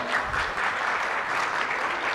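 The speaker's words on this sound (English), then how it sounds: "please give him a round of applause" An audience applauds a contestant at a mangrove-themed quiz competition, with steady, dense clapping throughout at a moderate distance.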